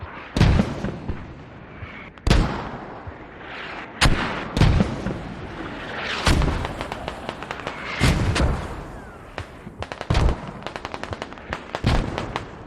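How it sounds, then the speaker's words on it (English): Mortar fire in a military shooter game, repeated loud booming blasts and cracks at uneven intervals, with rattling gunfire and rumble filling the gaps between heavy impacts. "Mortars are still going in from Fortress, from the BOB"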